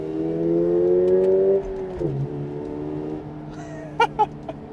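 A non-turbo car engine rises steadily in pitch as the car accelerates while driving, then drops away with a gear change and settles to a lower drone, with a few faint clicks near the end.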